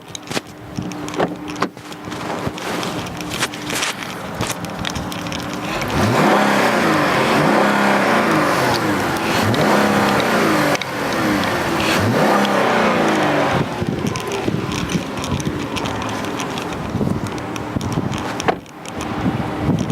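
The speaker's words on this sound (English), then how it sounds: "You know what, Linda, you want to take a listen to the engine? I'm going to rev it up a little bit" A new Chrysler 200 at a car dealership has its engine revved, rising and holding through several surges with wind noise across the microphone and no talk.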